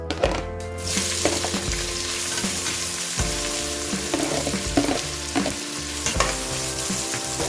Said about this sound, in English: I'm going to stir it like for 3 minutes.